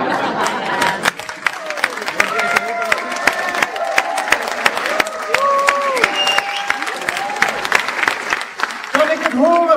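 Political party rally crowd applauding and cheering, a loud sustained wash of clapping with shouts and whistles rising above it, and voices calling out across the hall throughout.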